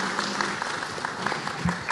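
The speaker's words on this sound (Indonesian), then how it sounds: "Boleh berikan tepuk tangan Bapak Ibu." Audience applause at an evening dinner event marking a regency leader's first year in office in Malang, a soft, steady patter of clapping throughout, moderately distant and fairly quiet.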